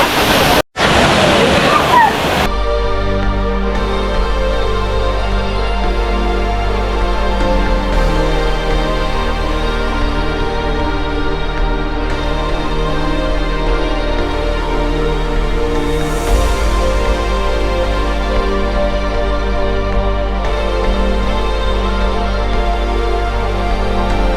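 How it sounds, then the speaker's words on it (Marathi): Waghbil waterfall near Badlapur, a loud, steady roar of falling water filling the whole stretch, with a brief sharp disturbance at the very start and no voices. "पाठीमागच आपल्याला वाघबीडचा धबधबा बघायला मिळतो ना"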